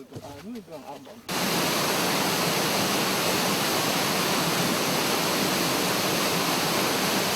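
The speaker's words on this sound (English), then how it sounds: "to one of the many waterfalls feeding this giant spiritual river" A waterfall in the foothills beyond a swamp in Papua New Guinea pours down in a loud, steady broadband roar after a short quieter opening with a voice.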